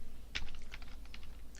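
Someone types on a computer keyboard at a Linux terminal: a quick run of light, sharp key clicks at close range in a quiet room.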